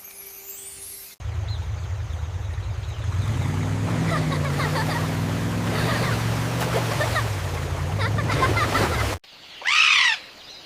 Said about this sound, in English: Macaws call out to talk to each other, and some calls can be heard a mile away.